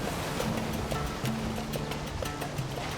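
Ocean waves wash around a boat at sea in the video game Valheim, a steady, loud rush of surf and splashing water that continues throughout with no break.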